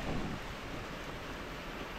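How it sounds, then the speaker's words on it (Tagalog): Heavy rain pouring steadily outside during a wet workday, a dense, continuous wash of noise with no break, close and fairly loud. "Sobrang lakas ng ulan."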